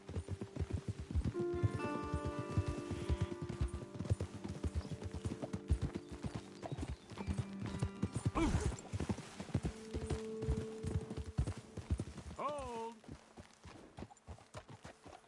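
Horses' hooves clip-clop steadily in Red Dead Redemption 2 as riders move along, with a horse whinnying briefly near the end and light rain beneath. A man calls out once over the hoofbeats.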